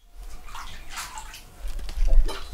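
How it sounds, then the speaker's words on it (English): Homemade bath bomb fizzing and bubbling in a filled bathtub, a soft watery hiss with gentle sloshing that grows louder and fuller toward the end, close by and without speech. "And then it bubbles in the bottom."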